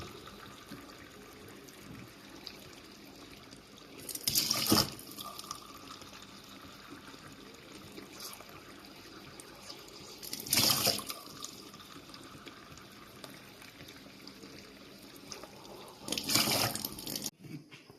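Water sloshes and pours in three separate bursts spaced about six seconds apart as glutinous rice is washed, with quiet room noise between them and no talking.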